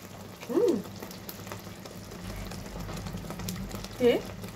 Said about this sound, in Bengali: এখানে আগে মশলা দিয়ে আমি মশলাটা কষিয়ে নিই।